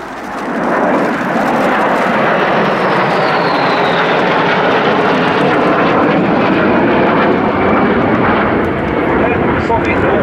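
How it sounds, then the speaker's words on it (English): Polish Sukhoi Su-22 Fitter jets roar loudly and continuously in a low-level display at an air show, a dense sustained jet engine rumble that stays near and powerful throughout. "Two aircraft splitting for the next part of their display, and here we see something of the low-level capability of the fitter in a show of force."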